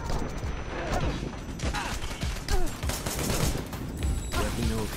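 Rapid bursts of gunfire in the action game Wanted: Dead, layered with shouting voices and battle noise, dense and continuous throughout.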